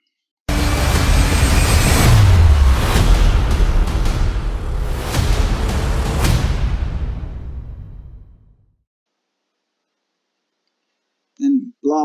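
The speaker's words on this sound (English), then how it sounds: "explosion-y, aeroplane crashy stuff that we saw in the previous trailer" Explosions and a plane crash from a Terminator: Dark Fate trailer sound loud and booming, with a descending roar and rumbling impacts that fade out, followed by silence and brief speech at the end.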